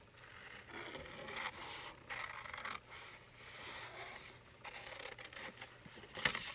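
Paper pieces being cut out by hand for card making, a steady series of soft scissor snips and paper rubbing and rustling at close range, with brief pauses and a sharper click near the end.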